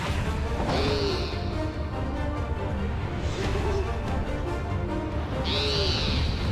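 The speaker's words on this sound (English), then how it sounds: "Even more terrifying, an owl." An owl creature hoots in a Final Fantasy XIV dungeon, giving loud, screechy rising-and-falling calls at the start and end over a steady game soundscape.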